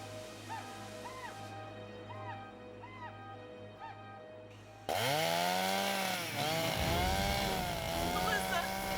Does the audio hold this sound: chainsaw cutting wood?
yes